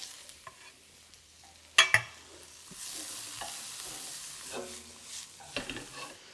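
Carrot stir-fried in a hot wok for Cantonese beef with green peppers in black bean sauce: a sharp metallic clank, then a soft continuous sizzle broken by scraping stirs and small knocks of the utensil, nearby and moderately loud.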